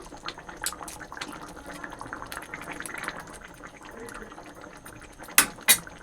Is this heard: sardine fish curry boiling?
yes